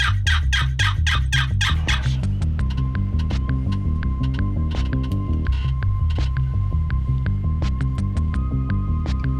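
A wild Eastern longbeard turkey gobbles during a Missouri turkey hunt, a burst of rapid, rattling gobble notes up front, followed by quieter scattered clicks and rustles with no talking.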